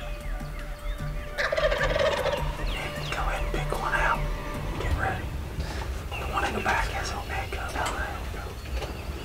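Wild turkeys gobbling in a field during a turkey hunt, several loud gobbles in bursts at moderate distance, with hushed whispering from hunters in a blind under and between the calls.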